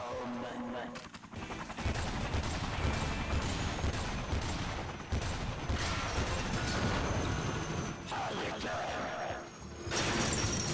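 Loud, sustained bursts of automatic gunfire aimed at a helicopter in the video game Lollipop Chainsaw RePOP on PS5, rapid shots rattling over dense game noise and effects for most of the stretch.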